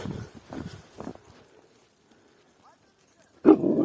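A few short barks from Kangal dogs sound in quick succession in snowy weather, then a pause, followed by a louder burst of barking at the end.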